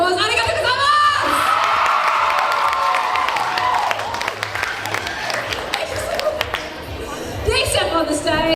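Audience at a cosplay competition applauds and cheers loudly, with whoops and shouts over steady clapping that carries through, while a presenter's amplified voice speaks over the crowd.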